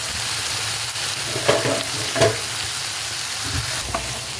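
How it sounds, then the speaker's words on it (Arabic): Olive tagine sauce frying in oil and butter with spices, ginger, caraway, salt and dried and fresh parsley, giving a steady broadband sizzle close by, with a few soft stirring knocks and no talk. "شوفوا البنات كيفاش تحمست بالطبع"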